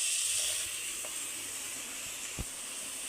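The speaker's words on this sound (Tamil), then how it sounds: "இந்த தக்காளி நல்லா வதக்குறாங்க." Tomatoes sautéing in a pan for a Tamil Sunday lunch, giving a steady, moderately quiet hiss and sizzle throughout with a few faint clicks and no voices.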